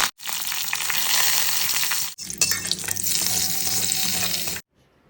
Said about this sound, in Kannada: ನಾನು ಕೂಟ್ಕು ಕೊಬ್ಬರಿ ಎಣ್ಣೆ ಒಗ್ಗರಣೆ ಹಾಕ್ತಿದ್ದೀನಿ